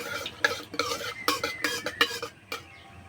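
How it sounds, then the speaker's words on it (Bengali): Whole cumin seeds added to hot mustard oil in a wok, with a series of sharp metallic scrapes and clinks of a spoon against the pan over a faint sizzle, close and distinct. "তেলে দেবো গোটা জিরে"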